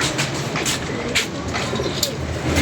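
Pigeons coo close by in low, soft, repeated calls over a steady background hum, with a few faint brief taps mixed in.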